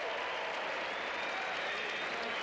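A tennis crowd at an indoor ATP tournament in Indianapolis applauds and cheers a record 134 mph serve, with dense, sustained clapping that fills the whole moment at a steady level.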